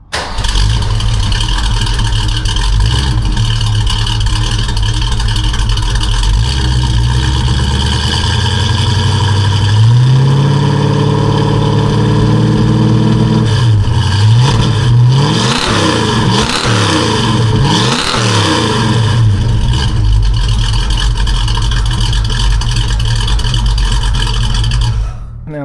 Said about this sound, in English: It's basically a stock 289 engine with a cam that's similar to the K-Code 289,